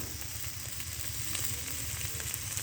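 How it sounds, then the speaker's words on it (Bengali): Taro and crab fry in a pan, a steady loud sizzle with faint crackles and a hint of stirring, close up and continuous without any speech. "দেখেন কচু আর কাঁকড়া আর ঝরঝরি করে ভাজি করেছি"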